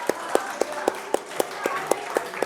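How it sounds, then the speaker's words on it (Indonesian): Clapping from an audience at a teacher-entrepreneur talk comes as sharp, evenly spaced claps, about four per second, in a steady rhythm that sounds like only a few hands, close and moderately loud. "Wah, ini boleh tepuk tangan ya?"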